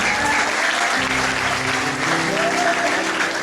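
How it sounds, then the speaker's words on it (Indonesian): Applause from an audience after a piano performance at a school gathering, a dense, continuous wash of clapping that stays loud for the whole stretch, with voices faintly under it. "Tepuk tangan dulu."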